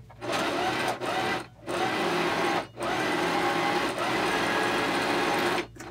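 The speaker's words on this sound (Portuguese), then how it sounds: "Então eu vou vir aqui para a máquina. E eu vou fazer uma costura suficiente para fazer um túnel para passar uma tirinha de elástico." A sewing machine runs in steady bursts while stitching a fabric casing tunnel for elastic on a culinary or surgical cap, its close, even whir broken by several short pauses.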